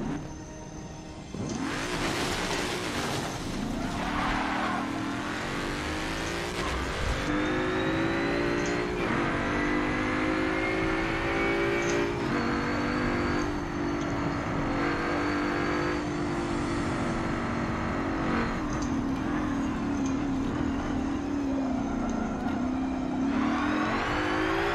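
Racing car engines in Forza Motorsport 7 at a drag and public meet lobby, revving and shifting repeatedly with rising and falling whines, loud and close throughout, with no talk.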